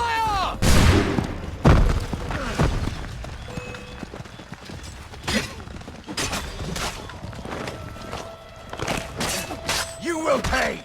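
A volley of musket gunfire in Assassin's Creed III, a burst of sharp cracks amid shattering impacts, running footsteps and shouting voices in a chaotic battle scene.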